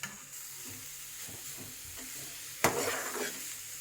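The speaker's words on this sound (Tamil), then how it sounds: "இப்போ இந்த கேபேஜும் ஆனியனும் கொஞ்சம் ஆயிலில் நல்லா வதங்கி இருக்கு" Cabbage and onion sauté in oil in a pan for cabbage rice, with a constant sizzle, scraping stirs and one sharp utensil clack partway through.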